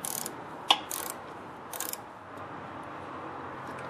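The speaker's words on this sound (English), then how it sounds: "And I'm using a ratcheting wrench for this." A ratcheting wrench tightens a 5/16 bolt on a Briggs & Stratton 4-5HP engine during fuel tank replacement, giving a few short clicking ratchet bursts close by, then quiet background.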